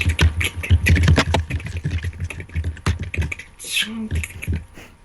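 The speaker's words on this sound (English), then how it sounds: "you hear the typing of like typewriters going" Rapid clacking typewriter keystrokes patter close by in irregular bursts, like several typewriters going at once in an office of cubicles, with faint voices underneath.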